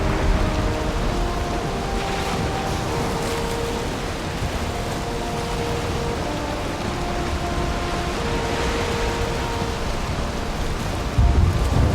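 Storm in Valheim: steady heavy rain with low rumbling thunder throughout, continuous and loud, with a brief swell at the very end.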